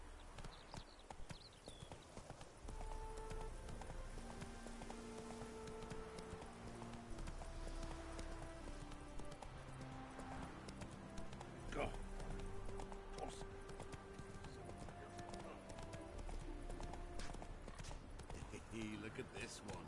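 Horse hooves galloping in The Witcher 3 video game, a steady rhythmic clip-clop running throughout under game music, with a person talking over it.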